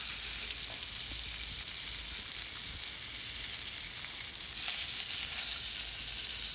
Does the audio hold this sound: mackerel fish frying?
yes